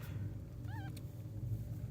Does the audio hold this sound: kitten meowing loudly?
yes